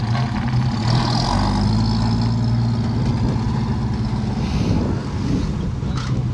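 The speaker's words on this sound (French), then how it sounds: "un GMC long Torpedo. On va le laisser se garer, s'installer. On va faire une marche arrière et puis se met en avant." A GMC long Torpedo military truck idles and maneuvers while parking and reversing, its engine giving a steady, close, low throbbing hum with some wind noise over the microphone and no voices.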